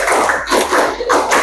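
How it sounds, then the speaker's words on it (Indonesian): A class of students claps a counted rhythm pattern together in a chemistry lesson, producing a run of sharp group claps in uneven bursts with brief gaps between phrases. "tepuk 4 2 kali."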